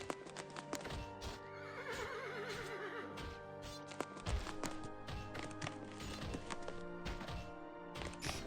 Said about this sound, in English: Stray horse.